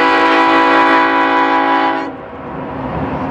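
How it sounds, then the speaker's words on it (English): A BNSF freight train horn blares loud and close at Cajon Pass, a sustained chord for about two seconds before cutting off into the rumbling roll of the passing train. "Come on, blow your horn on it."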